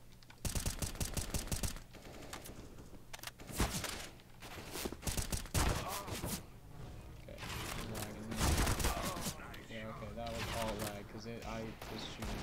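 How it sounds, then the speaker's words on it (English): Rapid bursts of gunfire in the shooter game CS:GO on the Dust 2 map, sharp repeated shots with a few louder bangs, mixed with game sounds and occasional voices across the span. "I was shooting directly into that person."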